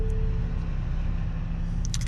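Nissan Z Sport engine idling just after start-up, a low steady rumble heard close from inside the cabin.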